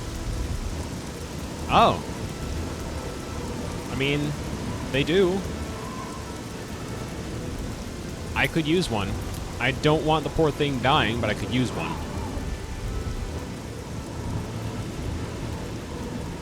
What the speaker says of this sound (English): Yeah, alright, the rain is coming to an end.